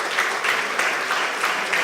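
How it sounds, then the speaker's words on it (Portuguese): Steady applause from a conference audience, dense continuous clapping throughout with no voices standing out. "eu peço a vossa atenção, o vosso aplauso"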